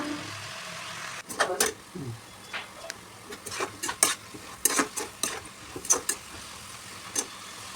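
Spinach-type greens cooking as a lightly salted poriyal are stirred in a pan: a quiet series of irregular spatula scrapes and clinks over a soft sizzle.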